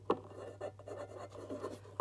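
Pencil or marker writing on oak tag paper for a kinetic sculpture gear template, soft scratchy strokes close by over a steady low hum.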